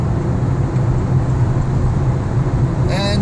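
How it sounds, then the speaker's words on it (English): A VW 1.4 TSI 122 HP CAXA car with a low-boost turbo fault accelerates at full throttle in sixth gear on a highway, a loud, steady low engine and road drone heard from inside the cabin. "at this point I'm going to try and accelerate again with full throttle"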